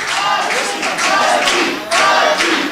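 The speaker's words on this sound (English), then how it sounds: "This crowd really getting behind Mikey G. And they're getting vocal" A wrestling crowd cheers loudly and steadily for Mikey G, a dense roar of voices that swells in waves with no clear break.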